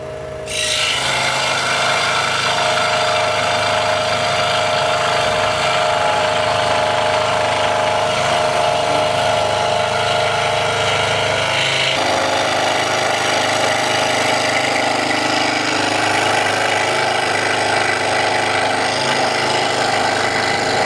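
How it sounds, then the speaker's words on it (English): A scroll saw runs steadily while cutting a wooden toy, giving a continuous loud rasping buzz with a slight shift in tone partway through as the blade works through the wood. "And turn on your saw."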